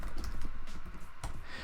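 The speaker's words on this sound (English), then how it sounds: "I'm going to type it in the chat right now." Quick bursts of keystrokes clatter on a computer keyboard in an uneven rhythm, close and fairly clear, with short pauses between flurries of typing.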